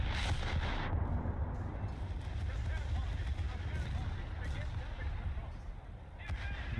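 Heavy naval gunfire from warships in War Thunder's naval battles, a dense, continuous rumble of big-gun blasts and booms with sharper bursts near the start and end.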